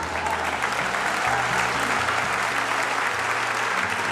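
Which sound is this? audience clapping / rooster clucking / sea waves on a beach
audience clapping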